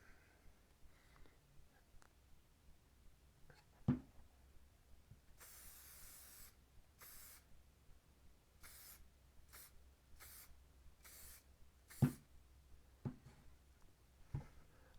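Short hissing bursts of an aerosol spray aimed past the edge of a mask repeat in an uneven rhythm, close and fairly quiet, with a few faint clicks in between.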